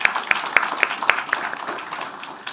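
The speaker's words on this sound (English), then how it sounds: "A big applause for them." Brief, sparse clapping at a conference inaugural session: a handful of sharp, evenly spaced claps over a soft wash of general applause, moderately close and fading toward the end.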